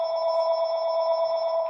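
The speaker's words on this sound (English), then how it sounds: "I got my phone ringing here." A phone rings with a loud, steady electronic tone that holds for the whole moment, with no voices over it.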